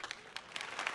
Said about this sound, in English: Big clap for you guys